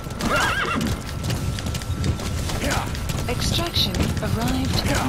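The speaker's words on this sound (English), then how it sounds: "Come on, you warping horse." A horse in the video game Metal Gear Solid 5 gallops with a steady, loud clip-clop of hooves and neighs now and then, under a busy game soundscape with some speech.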